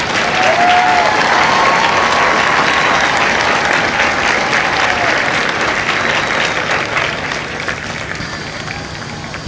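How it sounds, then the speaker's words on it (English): A large crowd applauds steadily at a Marine recruit graduation ceremony, a dense, loud, sustained wash of clapping that holds throughout and tapers slightly near the end, heard outdoors with no talking over it. "please join me in a round of applause for the company staff of Company B"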